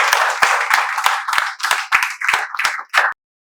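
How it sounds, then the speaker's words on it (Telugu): A group clapping to welcome viewers at a spoken English class, about ten sharp, loud, close claps in a quick uneven rhythm that stop abruptly into silence. "మీకు మేమందరం చప్పట్లతో స్వాగతం తెలియజేస్తూ సెలవు తీసుకుంటాం."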